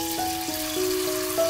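Carrot pancake batter pan-frying in a shallow layer of oil, giving a steady soft sizzle throughout with faint sustained tones running over it.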